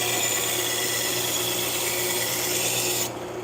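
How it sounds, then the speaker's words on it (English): An AMK 75 knife sharpening machine grinds with a loud, steady abrasive hiss that runs continuously, then cuts off abruptly just before the end, leaving a low hum. "Hey, this is an AMK 75. It's from amktactical.com. I don't believe they make this machine anymore."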